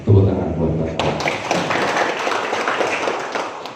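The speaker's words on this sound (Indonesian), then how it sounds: "Tepuk tangan buat Bapak." At a Karang Taruna youth gathering in Ngoro sub-district, a crowd bursts into steady, dense applause for the sub-district head, beginning after a brief spoken line and continuing evenly to the end.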